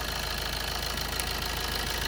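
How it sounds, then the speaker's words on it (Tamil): A used diesel car engine idling at steady speed, an even low mechanical hum with faint knocking texture, continuous and moderately quiet, with no talking. "இப்போ பார்த்தீங்கன்னா என்ஜின் நாய்ஸ் இங்கே கேட்கலாம்."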